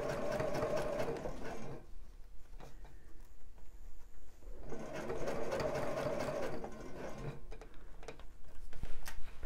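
Domestic sewing machine stitching an elastic bra band, two bursts of rapid rhythmic needle chatter close up, separated by a quieter stretch of fabric handling and light ticks.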